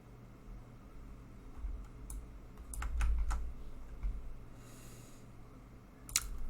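Keystrokes on a computer keyboard while a command is typed on an Ubuntu server setup, a few quiet, sparse clicks over a steady low room hum, with a brief cluster of taps near the end.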